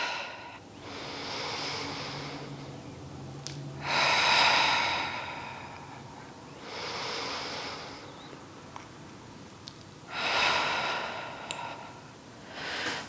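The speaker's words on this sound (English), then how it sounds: "Again, in through the nose, out through the mouth with that breath." Slow, deliberate breaths during a Pilates mat workout, drawn in through the nose and pushed out through the mouth, four long airy cycles alternating between softer inhales and fuller exhales, close and clear with no talking.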